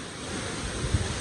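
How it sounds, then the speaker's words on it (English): Waterfall at Cloudland Canyon, a steady broadband rush of falling water heard close and continuous, with no voices. "behind me here we have the waterfall right there like that."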